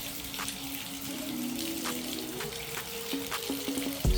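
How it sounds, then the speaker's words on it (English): Water runs steadily from a shower faucet turned all the way up, giving a continuous hiss and splash with faint dripping accents and no voices. "So you turn your faucet all the way up and the water coming out is not hot enough"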